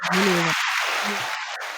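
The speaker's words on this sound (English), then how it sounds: "Apparently, it's the live crowd we have tonight." Live crowd cheering and applauding as a sound effect, a dense continuous wash of clapping and cheers at steady loudness, with a brief low tone near the start.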